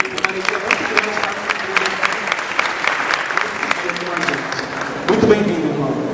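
An audience at a Catholic charismatic renewal workshop in Brazil breaks into lively, close applause with crisp individual claps, while voices speak over the clapping.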